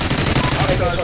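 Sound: minigun firing in video game Call of Duty: Ghosts

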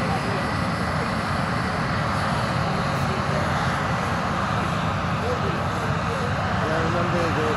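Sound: EA-18G Growler jet flying at AirVenture airshow

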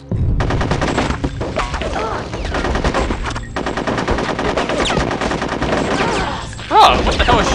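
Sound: gunfire in the video game Conker's Bad Fur Day

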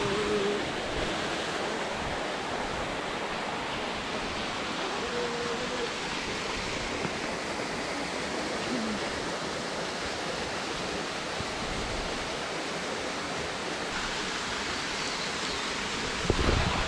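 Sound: mountain stream water flowing

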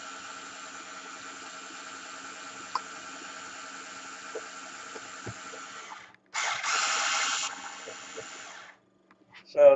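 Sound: electric drill running to stir liquid

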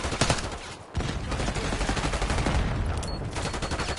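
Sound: gunfire in the Call of Duty Black Ops 6 video game

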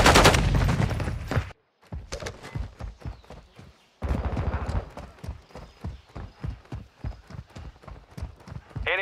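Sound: gunfire in Call of Duty video game

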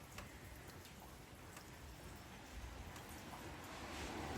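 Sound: rain dripping

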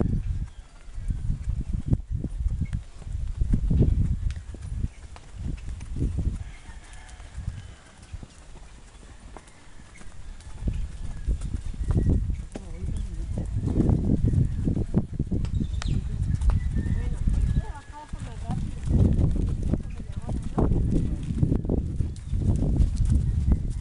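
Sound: horse walking, hooves clip-clopping

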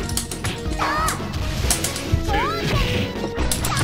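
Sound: punch impact hits in King of Fighters 2000 video game

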